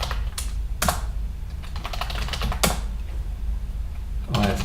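Typing on a computer keyboard to log in, a few quick bursts of key clicks separated by short pauses, close and clear over a quiet background.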